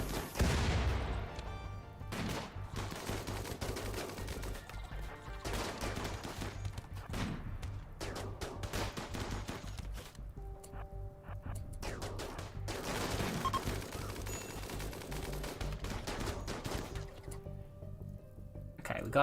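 In the space game Odyssey, a turret fires in sustained rattling bursts of gunfire and blasts that go on without a break, loud and dense, with rapid repeated shots over a rumbling background.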